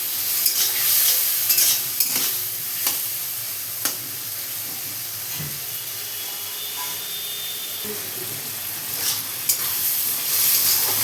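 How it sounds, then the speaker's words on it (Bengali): Ground spice paste with salt sautés in a pan, giving a steady loud sizzle with occasional scrapes and taps of the stirring spoon, heard up close. "খুব সুন্দর করে কষিয়ে নেব।"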